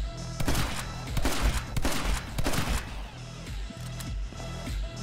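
Shotgun blasts in My Friend Pedro crack out in quick clusters over a thumping game soundtrack, loud and close, with the shots thinning out toward the end.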